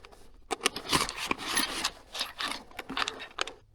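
Small metal screws rattle and scrape inside a box as someone rummages through it while assembling a Stark Varg Gen 2, giving a close, irregular run of clinks and rubbing with no talk.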